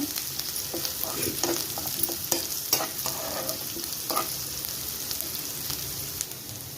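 Onion fries in a pan while a spoon stirs it, producing a continuous close crackling sizzle with repeated scraping and light knocks.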